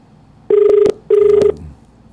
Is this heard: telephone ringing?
yes